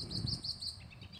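Small birds chirp in a park in Hyattsville, Maryland, quick high repeated tweets, faint and somewhat distant, over a soft outdoor background.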